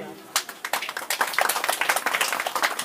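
Dense audience applause at a foundation's first anniversary celebration in a Kalimpong village, starting abruptly after a quiet moment, then a steady, fairly close wash of many hands clapping to the end.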